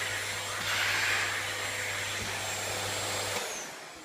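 A Bosch BSG8PRO1GB vacuum cleaner with a soft furnishing nozzle sucks salt off a sofa, a steady loud whirring drone with a constant motor hum that cuts off abruptly near the end.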